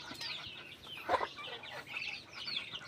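Native backyard chickens cluck softly and intermittently, with one louder cluck mid-clip and faint bird chirps alongside in an outdoor yard.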